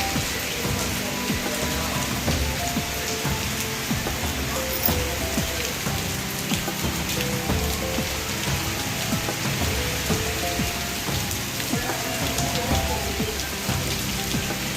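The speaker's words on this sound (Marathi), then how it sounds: "पाऊसही तेवढंच आहे आणि वारंही तेवढंच आहे" Heavy, wind-driven rain in Sangli district keeps up a constant, loud rushing noise close by, dense with pattering drops and no speech over it.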